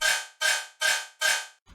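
A comb-filtered riddim bass sample, heavily post-processed, hits four times in a steady rhythm, each burst loud and bright and then decaying, with no talking.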